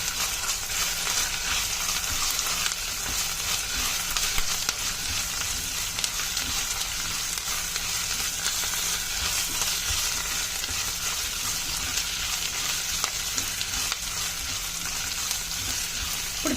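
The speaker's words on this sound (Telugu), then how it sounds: "ఒక 1/2 స్పూను అల్లం వెల్లుల్లి పేస్ట్ వేసి అది పచ్చి వాసన పోయే వరకు వేపుకోవాలండి" Ginger garlic paste frying in oil for a capsicum masala curry, a steady, loud, continuous sizzle with faint stirring scrapes running throughout, no voices.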